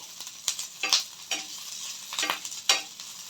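Green chillies and four garlic cloves fry in a pan, stirred in quick scraping strokes that rise in bursts over a soft sizzle, close up with no voices.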